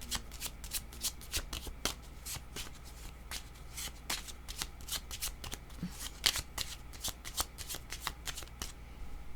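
Tarot cards being shuffled by hand, a steady run of crisp riffling bursts repeating close up for the whole stretch, with no talk over it.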